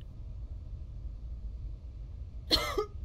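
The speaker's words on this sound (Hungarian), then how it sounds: "Meg köhög." A character in the zombie-checkpoint game Quarantine Zone: The Last Check gives one short, sharp cough near the end, over a quiet low rumbling background.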